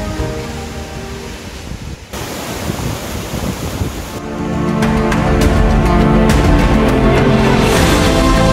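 Curug Cileat, a waterfall hidden in forest at the foot of Mount Canggah in Subang, roars as loud, steady rushing water that swells stronger midway, with no voices.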